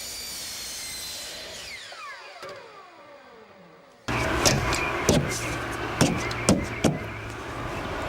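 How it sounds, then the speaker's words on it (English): Tek screws driven into fascia trim on a metal roof: a falling whine fades out, then a loud burst of power-driver buzz with several sharp clicks and knocks against metal. "Tek screws are used to attach the top and bottom of the fascia trim"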